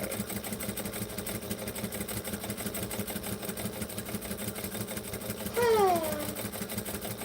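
A sewing machine runs a steady, rhythmic hum while top-stitching leather strapping. A person talks briefly over it near the end.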